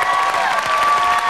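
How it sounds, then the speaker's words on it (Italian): Applause from the Sanremo festival audience greets Povia as he is announced winner of the 56th edition, a loud, dense and steady wash of clapping and cheering throughout. "Applausi di apprezzamento,"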